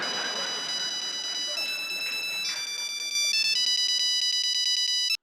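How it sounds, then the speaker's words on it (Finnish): A telephone on a comedy talk show set rings with electronic tones that step through changing pitches, loud and steady for several seconds before cutting off abruptly. "Kekkonen Talk Show, Kekkonen puhelimessa"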